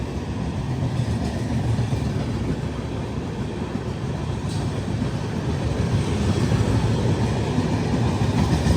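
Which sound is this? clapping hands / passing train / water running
passing train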